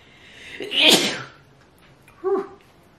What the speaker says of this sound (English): I sneeze into my shirt